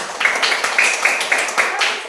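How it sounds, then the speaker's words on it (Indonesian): Rhythmic clapping from a classroom audience cheering a student group, a fast patterned beat of claps for about two seconds, close and fairly loud. "Tepuk tangan untuk kelompok 1 dulu."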